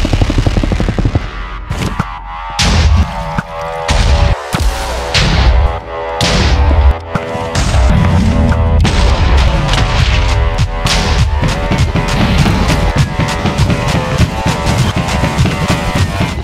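Minecraft combat against the Ender Dragon in the End, with dense booms and impact blasts over continuous loud game music, ending in a sustained roaring wash.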